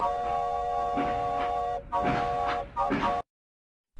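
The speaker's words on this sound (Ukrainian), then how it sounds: "Так, це звук потягу." A train horn sounds in a sustained, multi-tone blast, then breaks into a few shorter blasts before stopping abruptly.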